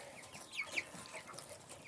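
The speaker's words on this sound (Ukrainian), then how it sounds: "вже такі потужненькі, потужненькі є курчатка" Faint, high chirps from chicks come in scattered short peeps over a soft background hiss.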